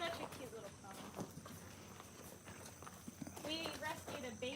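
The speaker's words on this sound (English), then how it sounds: "Such a cute little pony." A small rescued pony mare walks at an auction, her hooves clip-clopping in an irregular rhythm while people chat nearby and a brief whinny-like squeal rises near the end.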